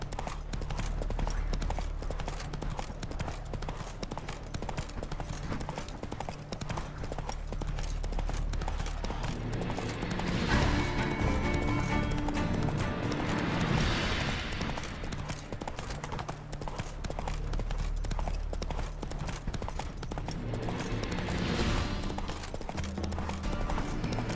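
Roach the horse gallops in The Witcher 3, a steady rapid clip-clop of hooves running through most of the stretch, with a rider's brief urging call.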